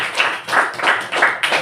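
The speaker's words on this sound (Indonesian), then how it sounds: "tepuk tangan." A few pupils in a classroom clapping, four or five quick, light bursts of hand claps in an uneven rhythm, brief and close, with no talking over it.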